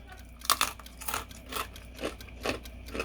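Crisp roast pork skin (cuerito) from Cuban-style roast pork, crunched and chewed up close: a series of brittle crackling bursts at irregular intervals, a few louder snaps among softer crunches, no talking.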